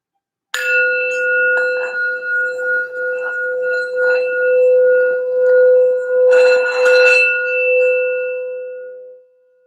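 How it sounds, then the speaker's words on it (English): A single bell is struck and rings out with a clear sustained tone, then a second strike swells the ringing before it fades away. "I'm going to do a quick little sound bell for some general healing and grounding"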